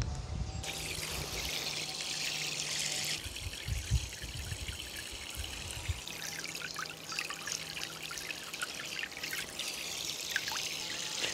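Water from an AUTOPkio portable camping shower sprays steadily into a pool, a continuous splashing trickle running throughout with a brief change near the start.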